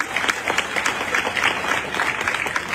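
Steady audience applause fills the room after a political speech in Boston by Bobi Wine, dense overlapping claps continuing at an even level throughout.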